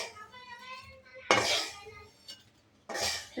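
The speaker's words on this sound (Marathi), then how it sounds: "हे बघा मी रवा काढत आहे" Roasted semolina (rava) scooped out of a pan for upma: two bursts of metal spoon scraping and clinking against the pan, close up, between quieter stretches with faint talk.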